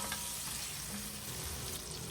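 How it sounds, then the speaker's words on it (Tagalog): Onions and tomatoes sautéing in hot oil in a pan make a dense, steady frying sizzle, close and continuous, with no voices. "Igisa for another few seconds."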